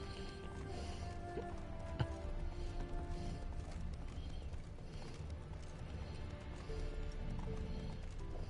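Roach, the horse in The Witcher 3, clip-clops steadily over ground with a whinny heard amid a busy ambient game soundscape at moderate volume.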